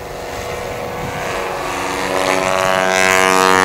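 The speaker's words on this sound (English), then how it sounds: "CC Pocock, I'm going to listen and see if we get that nitrous." A STOL aircraft engine running on nitrous roars during takeoff, a loud steady drone that climbs gradually in pitch and volume, with no talk.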